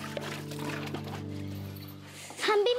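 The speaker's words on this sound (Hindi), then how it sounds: "पानी भर रहा है" Water pours into a container at home in a steady trickle under sustained background music, and a voice briefly joins near the end.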